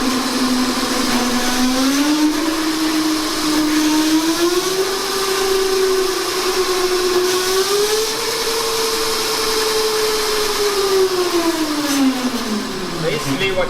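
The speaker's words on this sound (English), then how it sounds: "the motor in the electric cart is driving the cart forward" An electric go-kart motor on a hardware-in-the-loop test rig gives off a steady tonal whine whose pitch slowly rises and falls with speed, then drops away at the end, loud and close with no talking.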